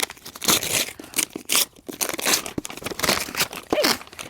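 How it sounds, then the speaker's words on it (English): Gift wrapping paper being torn and crumpled off a book, a run of crinkling rips and rustles, close and fairly loud, with no talking. "I'm just going to unwrap her real quick."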